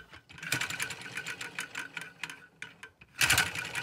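A small LEGO butterfly vacuum engine running close by, giving a rapid, irregular clattering of plastic parts with a louder burst near the end; no voices.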